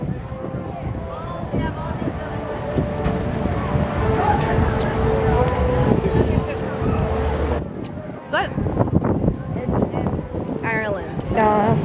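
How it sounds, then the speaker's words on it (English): Wind buffeting an outdoor microphone in a busy seaside food setting, a continuous rumbling roar under people talking and background bustle. "And there's wind."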